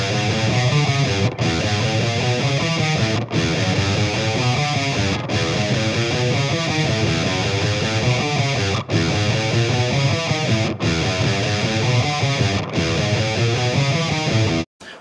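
An electric guitar plays the first riff of a song, a highly chromatic, distorted run of fast four-finger spider-crawl notes, loud and continuous with brief gaps, and no talk.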